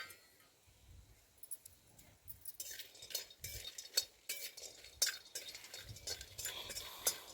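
Black cardamom pods roasting with a little oil in a pan, faint sizzling overlaid with scraping stirs and sharp metal utensil clicks against the pan, close and quiet, irregular and growing busier toward the end.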